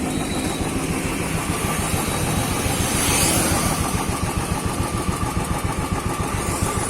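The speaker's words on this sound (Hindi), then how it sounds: "अब इसको स्टार्ट मारते हैं।" A motorcycle fitted with an angular aftermarket silencer starts and settles into a steady, throbbing idle, close and fairly loud, with passing traffic noise around it.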